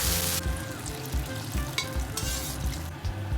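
Beef and chopped tomatoes with tomato paste and stock frying in a pot, giving a dense, continuous sizzle broken by regular scraping stirs, close and steady.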